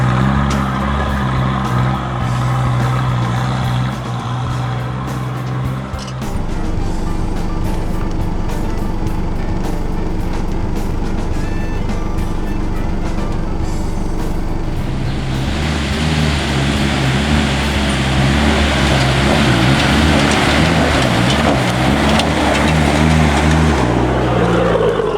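A Mazda ute crawls up a 4WD bush track in first low gear, its engine droning steadily close by for the whole stretch. The tone shifts partway through, and the wind or tyre rush on the track grows louder.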